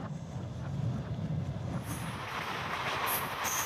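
A Trans-Siberian Railway train runs along the track in Russia, giving a steady, dense rumble with rolling wheel noise and some hiss throughout. No voices are heard.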